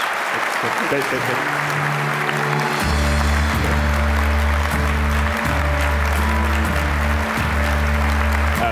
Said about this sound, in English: let's get one more round of applause, please, for Joan Ryan and Ian Austin